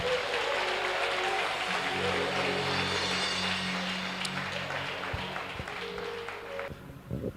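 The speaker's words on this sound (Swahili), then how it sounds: "Mpe Yesu makofi." A church congregation applauding, steady dense clapping close and loud that fades toward the end, with a faint hum of voices underneath.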